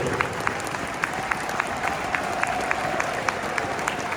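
A football crowd at an MVV match applauds in memory of deceased supporters, a sustained wash of clapping from a large stadium audience with sharp, regular claps standing out nearby.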